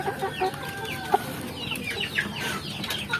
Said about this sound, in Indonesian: Ketika para indukan mengeram seperti ini adalah proses alam yang terjadi